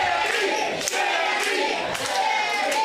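A big crowd at a pro wrestling show in Guelph chants a name in steady rhythmic waves, loud and continuous, with a few thuds mixed in.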